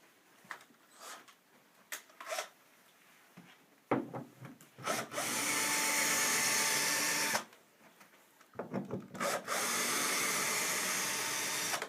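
A power driver whirs in long steady bursts while backing gray screws out of a king size upholstered headboard, with scraping, rubbing and handling noises between the runs, close by.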